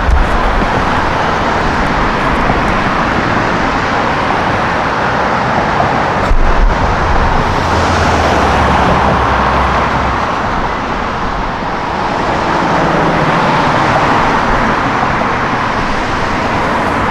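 A police car drives past in dense street traffic, part of a loud, continuous roar of passing vehicles and road noise with no distinct siren.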